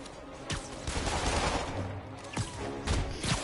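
Gunfire from a Spider-Man video game, with several sharp bursts and shots cracking through a dense, steady backdrop of game noise, loud and close throughout.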